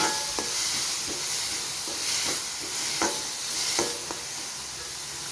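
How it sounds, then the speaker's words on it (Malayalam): Tomato, onion and green chilli are sautéed in a pan with popping mustard seeds, a gentle sizzle broken by several sharp spatula scrapes at irregular intervals. "കടുക് ഇട്ടിട്ട് തക്കാളി ഉള്ളിയും പച്ചമുളകും ഞാൻ അതിലേക്ക് ഇട്ട് വഴറ്റുന്നുണ്ട്"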